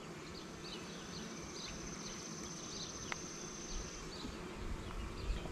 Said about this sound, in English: Bees are pretty amazing creatures